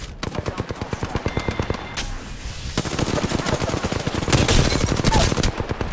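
Rapid automatic gunfire from the video game Apex Legends, loud, steady bursts of shots with a short lull and dense overlapping fire near the end.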